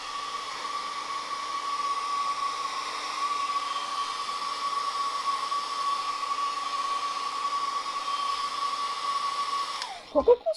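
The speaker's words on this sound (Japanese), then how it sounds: "前髪をちょっとドライヤーかけて丸める" Hair dryer blowing on bangs backstage at a farm festival, a steady close whir with a thin high tone running for about ten seconds before cutting off into brief handling bumps.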